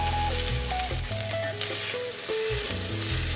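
Cannellini beans and diced red bell pepper sizzle in olive oil in a pot, a steady close frying crackle broken by intermittent stirring clunks.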